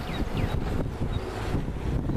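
Gusty wind buffets the microphone with a rough, low rumble that swells and fades throughout.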